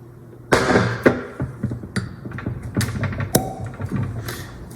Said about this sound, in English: Get that nice little pop to it.